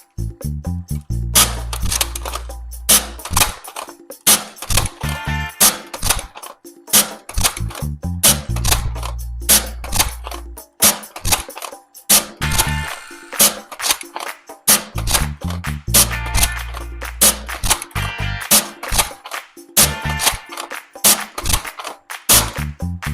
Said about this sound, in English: we are gonna get to the fine test of these 2 blasters and see how they fire